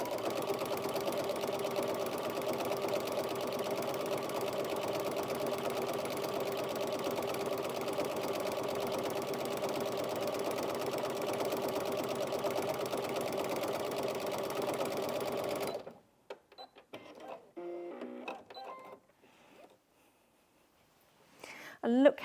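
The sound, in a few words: Brother Inventio NV1850Q sewing machine sewing stippling stitch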